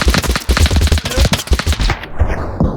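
Rapid bursts of gunfire rattle through a TABS battle, dense overlapping shots and machine-gun chatter, loud and close, thinning out toward the end.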